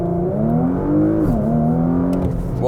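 A 2020 Porsche Macan GTS pulls away under launch control, its engine note climbing steadily in pitch, dipping briefly at a gear change, then rising again, heard from inside the car.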